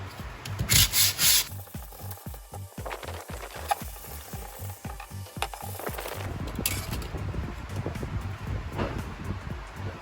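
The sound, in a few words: sanding metal after cutting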